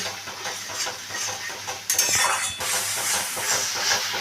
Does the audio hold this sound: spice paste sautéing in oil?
yes